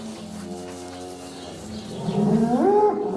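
A cow on a French cattle farm lets out a long, low moo that swells louder toward the end, close and clear against quiet surroundings.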